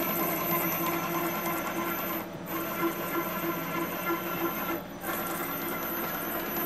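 An AC servo motor spins under a PP-114V2 control board, giving off a steady mechanical whir with a faint high whine, and the sound drops briefly twice as the rotation stops and reverses.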